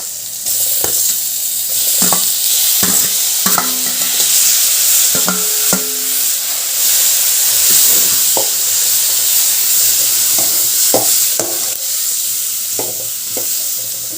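Chopped onions and tomatoes sizzle in a hot pan while a spoon stirs and scrapes through them, giving a steady frying hiss broken by frequent clicks and scrapes against the metal, close and continuous with no talking.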